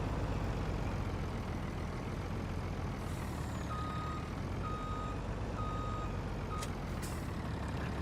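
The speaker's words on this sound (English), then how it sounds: "So let's get the truck up and running first of all." A truck in Farming Simulator 19 rumbles steadily at low pitch under a constant engine drone, its reversing beeper sounding a regular series of short tones midway through, with a couple of hiss-like bursts near the end.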